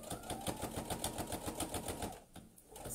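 A sewing machine stitching a reusable kitchen sponge made with wadding runs in a steady, quick rhythmic patter of needle strokes, fairly faint, with a brief pause near the end.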